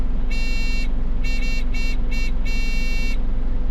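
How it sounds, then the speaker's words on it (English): Signal driver buttons on a new Isuzu Pac-Mac garbage truck set off electronic beeps inside the cab: one long tone, three short ones, then another long one, loud and close over a steady low engine idle. "which will make a beeping noise in the cab that sounds like this."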